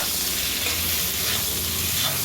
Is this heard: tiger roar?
no